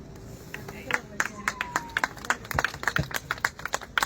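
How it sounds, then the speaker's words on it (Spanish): Several people clap at an outdoor evening bonfire festival in Paraguay, a steady patter of claps close by with voices and crowd murmur in the background. "Más fuertes esos aplausos."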